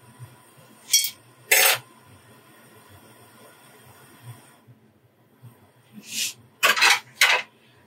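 A metal lid goes onto a pot of boiling raw mango with several sharp clinks and scrapes in two clusters, separated by a quiet stretch of low background noise.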